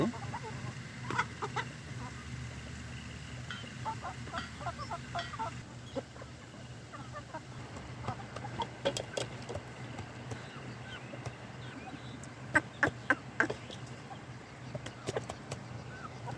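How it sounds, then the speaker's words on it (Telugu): A hen with her chicks clucks and peeps softly in a village yard during windy, rainy weather, scattered short calls over a steady low rumble of wind. "ఇది కోడి కోడిపిల్లలు తడవకుండా కాపాడుకోండి"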